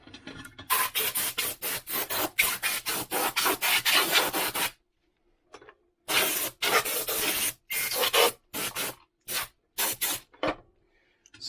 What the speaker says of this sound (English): So let me dust this off a little bit.